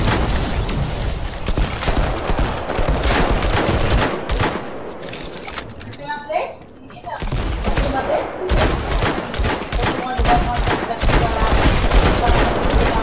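Gunfire fills a video game match in rapid, loud volleys of shots with a short lull midway, while players talk over it.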